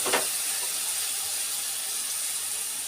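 Rice goes into a pan of fried onions browned dark yellow, a brief burst at the start settling into a steady loud sizzle and hiss.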